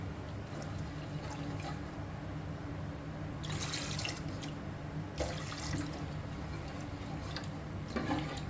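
Hot water runs from an opened tap into a sink, a steady splashing flow that swells into louder gushing bursts now and then, with no voices over it.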